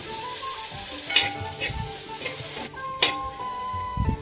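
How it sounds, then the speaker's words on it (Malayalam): Chopped tomato hits hot oil in a frying pan for a Kerala chicken curry, sizzling steadily while a spoon scrapes and stirs in several close, distinct strokes. "ഇനി ഇതിനകത്തേക്ക് ഒരു ചെറിയ തക്കാളി കട്ട് ചെയ്തെടുത്ത് കൊടുക്കുന്നുണ്ട്."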